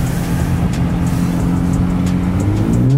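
An Infiniti Q60 accelerates hard in sport mode on a snowy road, its engine droning loud and steady from inside the car while the pitch climbs toward the end.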